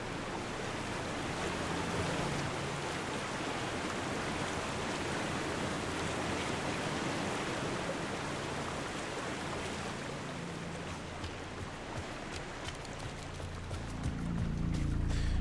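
A waterfall beside a creek in the video game Night Springs roars as a steady, broadband rush of falling water, close and constant, with a low rumble swelling near the end.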